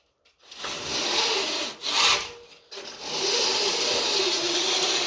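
Window blinds being opened further give a loud, close, rasping slide that starts, breaks off briefly twice, then carries on as a steady scraping rustle.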